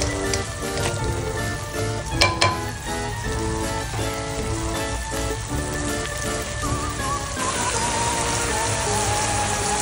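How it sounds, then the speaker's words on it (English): Sweet potatoes cook in a pan for homemade dog food, giving a loud, constant sizzle and crackle with occasional stirring clatter, close by and without any talking. "Further, we are adding sweet potatoes and cook it for another 5 minutes."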